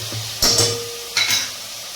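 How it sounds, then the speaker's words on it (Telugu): Ginger garlic paste sizzles in a pan as it is stirred, two short bursts of scraping and crackle rising over a low, steady frying hiss, close by with no voices. "ఒకసారి కలుపుకొని"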